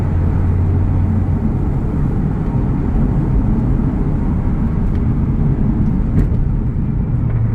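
Audi TT 3.2 Quattro fitted with high-flow cats and downpipes launching, a loud, continuous low engine roar that holds steady for several seconds without talk.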